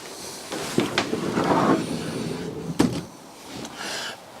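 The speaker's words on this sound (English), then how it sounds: "With a sliding door." A sliding bathroom door in a 2018 Jayco Alante 29S Class A motorhome slides along its track with a couple of thumps and a knock, then settles, close by in a quiet room.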